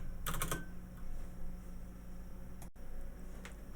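Keys on a computer keyboard tapped in a short quick burst near the start, followed by a steady low hum with a single sharp click later on.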